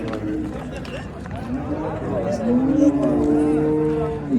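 Cattle at a busy village livestock market in Qamashi, a cow with her four-day-old female calf, one drawn-out low moo rising over steady crowd chatter and bargaining voices nearby.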